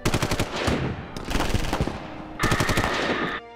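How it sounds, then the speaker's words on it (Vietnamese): Rapid machine gun bursts in a war film scene of North Korean troops surrounding a landed South Korean unit, loud dense volleys of gunfire in three stretches with brief gaps. "Sau một trận xả súng, toàn bộ đội 417 đều hy sinh."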